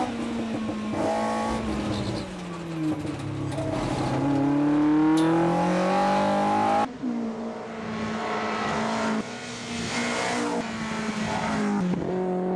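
A racing Mini's engine roars loudly and continuously, its pitch climbing and dropping through gear changes with a sharp lift-off partway through.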